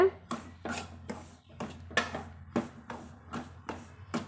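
Pearl millet flour dry-roasted slowly over a medium flame in a pan, heard as a regular series of sharp scraping clinks of a spatula against metal, roughly two per second, close and fairly loud.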